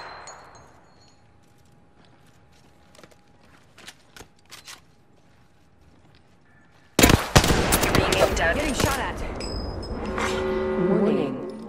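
Gunfire in a battle royale video game starts as sparse distant shots, then erupts into loud, sustained rapid automatic fire with metallic clinks and ringing effects.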